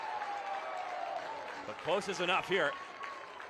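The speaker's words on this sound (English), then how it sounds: "A well-deserved round of applause." Crowd applause and cheering at a U.S. Open Cup soccer match between San Antonio FC and ASC New Stars: a steady wash of stadium noise with a commentator talking over it.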